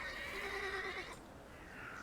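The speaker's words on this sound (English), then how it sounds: "I meant to take the horse out for a ride, so get on." A horse in The Thaumaturge video game gives a single clear neigh that rises then fades after about a second, leaving quiet game ambience.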